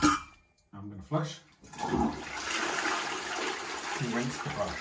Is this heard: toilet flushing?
yes